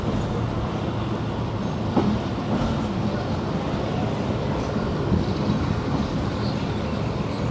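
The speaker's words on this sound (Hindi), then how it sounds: "ट्रेन को थोड़ी देर के लिए रोक दिया था लेकिन फिर से चला दिया गया है" Passenger train on a Karachi to Gujranwala journey rolling steadily along the rails after a brief stop near a level crossing, a continuous loud rumble and rattle heard from inside the carriage with no talking.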